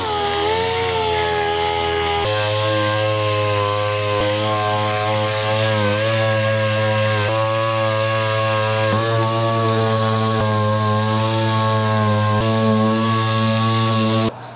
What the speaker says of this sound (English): I do have my Eastwood DA sander and I do love it